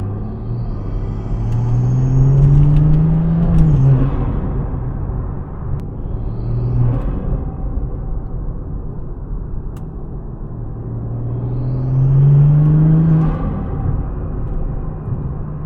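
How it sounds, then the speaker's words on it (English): A BMW F30 engine with a cold air intake rumbles and revs through rising pulls, with faint turbo whooshing and fluttering as the throttle lifts, heard from inside the vehicle. "you can hear the turbo spooling and fluttering"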